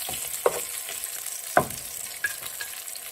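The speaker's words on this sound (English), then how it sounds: "garlic to roast a little bit." Garlic roasting in a little oil in a pan gives a soft steady sizzle, with a few sharp clinks of stirring scattered through, no one talking.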